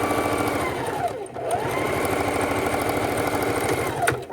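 A sewing machine runs steadily, stitching fabric drink coasters made from scrap squares, its fast even mechanical chatter close and continuous with one brief slowdown partway through.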